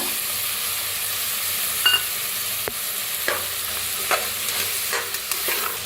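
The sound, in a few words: roasting masale bhat ingredients in a pan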